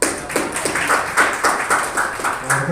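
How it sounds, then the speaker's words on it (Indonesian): A small group at an Indonesian teachers' meeting gives Pak Anton a brief, light round of applause, a few scattered claps repeating in a loose rhythm. "kita beri aplaus"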